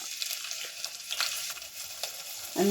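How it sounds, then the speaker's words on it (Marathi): A tempering of cumin and garlic sizzles in hot oil in a kadhai for dahi kadhi. The frying hiss is continuous, with light stirring taps, and a brief tonal scrape comes at the end. "खमंग अशी ही फोडणी आपली तयार होते"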